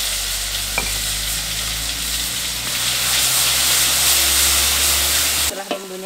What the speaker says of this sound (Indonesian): Sekarang kita goreng bumbu yang udah kita haluskan.